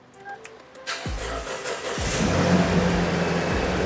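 A Toyota Land Cruiser Prado TX.L (2013–2021) engine cranks and starts up: a couple of short clicks, then the starter catches and the engine settles into a steady, fairly close idle that grows slightly louder.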